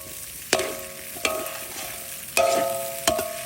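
A tuber that grows underground is stir-fried in a pan with seasoning, four sharp ringing metallic spatula clanks landing over a low, steady sizzle, close and without voices.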